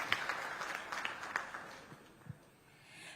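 Faint, scattered applause with light, uneven claps welcomes Congress Rajya Sabha MP Pramod Tiwari onstage during a Chhattisgarh 2023 election interview, thinning out toward the end.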